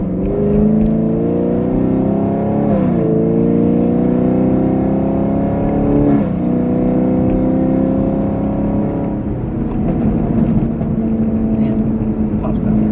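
A Chevrolet Camaro SS engine revs and drones up through several gear changes, with rough crackling pops in the exhaust.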